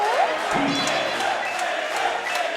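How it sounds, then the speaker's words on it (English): A large crowd roars and cheers wildly, a dense, sustained wall of voices with shouts rising through it. "listen to this crowd. They are losing their mind."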